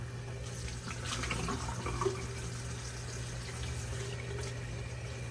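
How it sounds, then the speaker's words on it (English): Cold tap water running and splashing into a sink while a face is washed during a morning routine, a soft steady flow with a low hum underneath and no talking. "Okay, so we're gonna splash water."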